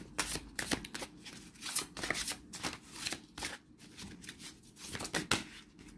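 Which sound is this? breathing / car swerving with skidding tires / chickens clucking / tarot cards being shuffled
tarot cards being shuffled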